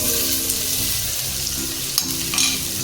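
Onion and tomato fry in a pan for a Karnataka-style catfish curry, giving a steady, close sizzle with soft stirring scrapes throughout and no talk.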